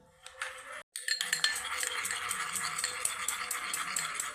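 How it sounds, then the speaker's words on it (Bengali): Aloe vera gel, vaseline and coconut oil mixed together in a bowl, with quick repeated clinks and scrapes of a spoon against the bowl following a short pause. "ভালোভাবে এই তিনটি উপকরণকে একসঙ্গে মিশিয়ে নিয়ে ফেস প্যাকটা একদম পারফেক্টভাবে রেডি করে ফেলি"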